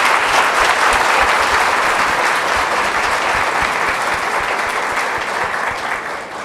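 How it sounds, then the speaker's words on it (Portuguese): Sustained, loud audience applause for volunteers at a Brazilian spiritual talk, a dense wash of clapping holding steady throughout and easing only slightly toward the end. "Eu queria pedir uma salva de palmas para os nossos voluntários."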